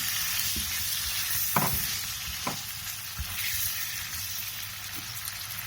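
Potatoes, cauliflower, peas and radish pods go into frying masala in a pan, giving a continuous close sizzle broken by a few sharp stirring knocks and scrapes.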